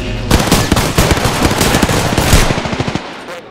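Rapid automatic gunfire rattles loud and close in a first-person shooter match, dense bursts running almost continuously for about three seconds before cutting off.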